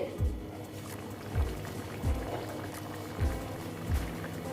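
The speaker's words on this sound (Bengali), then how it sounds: "দেখো মাছটা এখনো ফুটছে আর একটু ফুটতে হবে" A pot of boal fish curry bubbles at a rolling boil, with deep, regular glugging plops about once a second over a soft continuous simmer.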